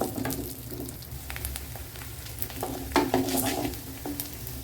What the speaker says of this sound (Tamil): உளுத்தம்பருப்பு இது வதங்கட்டும்